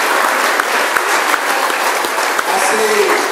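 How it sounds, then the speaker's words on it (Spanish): An audience at a health and wellbeing event bursts into loud, sustained applause, dense clapping filling the space evenly from start to finish with no voices standing out. "Un fuerte aplauso para todos los que están aquí."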